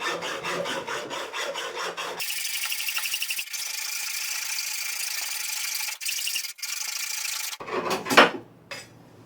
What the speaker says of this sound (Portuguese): eu troquei a lâmina aqui do arco serra para uma lâmina de metal, que é o dente menorzinho, e vou fazer o corte aqui na minha barra